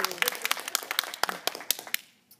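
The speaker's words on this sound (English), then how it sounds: "Let's give him a round of applause" A small audience at a school debate applauds the second government speaker, a short burst of scattered, uneven claps that thins out and fades within about two seconds.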